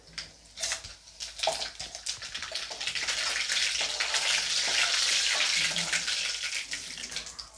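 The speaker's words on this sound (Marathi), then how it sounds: "आता त्याच्यामध्ये मी अर्धा चमचा मोहरी टाकून घेते आणि अर्धा चमचा जिरा टाकून घेते" Half a spoon each of mustard seeds and cumin hits hot oil. Scattered sharp pops come first, then a loud, continuous close sizzle that holds steady.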